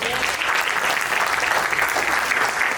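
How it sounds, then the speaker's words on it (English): Sustained applause from an audience welcoming rising motorsport driver Yevan David at a Mercedes-Benz fireside event, dense steady clapping filling the room throughout at an even loudness. "give a big round of applause to the rising motorsport star on track towards Formula One dreams, Yevan David"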